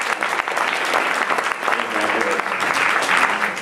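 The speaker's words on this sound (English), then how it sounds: "To actually give him a clap." An audience claps steadily at a YMCA Brightside and MHA partnership event, dense even applause filling the whole stretch, with some voices beneath it.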